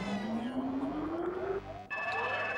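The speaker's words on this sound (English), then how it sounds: "So now you'll be hearing this nice siren of almost dying" Low-health warning siren from Super Metroid, a rising synthesized electronic tone that sweeps steadily upward, breaks off briefly, then resumes as a brighter sustained alarm over game sounds.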